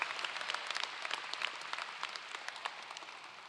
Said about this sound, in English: Can we give those two a round of applause?